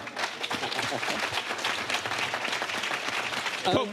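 Audience clapping at a lively garden-plant panel show, a steady spread of claps running the full length at moderate level, with voices talking over it and a brief louder burst near the end.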